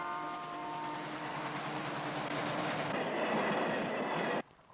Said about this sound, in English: 2 trains, 6 days a week, leave Greenvale for the treatment plant, a trip of 220 kilometres.